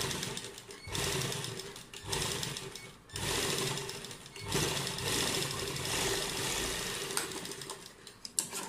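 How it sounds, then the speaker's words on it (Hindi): Sewing machine stitching double piping onto a neckline, running in close, loud bursts with short pauses between them as the fabric is guided. "जैसे कि सिलाई को थोड़ा सा डबल कर देना है जिससे ये पाइपिंग खुले ना यहाँ से बिल्कुल भी"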